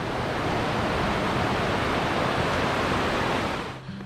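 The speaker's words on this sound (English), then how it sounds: "Look at that waterfall." A waterfall on Jakes Creek Trail in the Great Smoky Mountains gives a steady, close, full rushing roar of falling water that holds unbroken before dropping away near the end.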